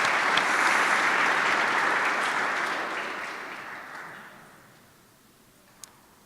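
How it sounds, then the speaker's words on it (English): Audience applause at a conference closing session: a broad, steady wash of clapping from many hands that gradually thins and fades away over several seconds, ending with a single faint click. "So I'm going to ask for applause even if they're not in the room."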